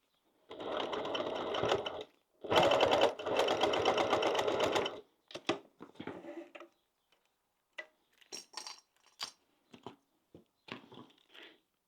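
A sewing machine stitches a second row along a fabric pouch with hardware, running in two steady bursts of a few seconds each, followed by short clicks and handling noises as the fabric is adjusted.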